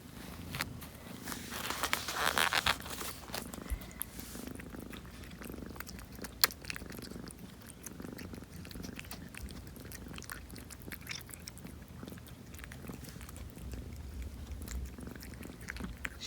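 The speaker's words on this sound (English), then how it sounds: "Hear that purr." Close, continuous purring from a small cat while she eats, mixed with soft chewing and biting noises and faint shuffling, with no one talking.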